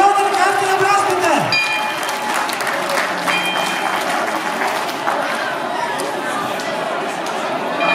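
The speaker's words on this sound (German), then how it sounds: "Gratulation und einen kräftigen Applaus bitte!" Hearty audience applause at a cattle show in Uttendorf Stuhlfelden, a sustained burst of many hands clapping, with chatter and an announcer's voice in the background.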